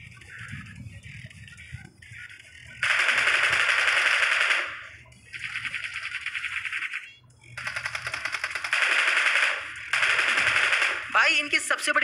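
Game gunfire from a shooting video game: several long, loud bursts of rapid automatic fire separated by brief pauses, with a low background hum and a short clatter at the end.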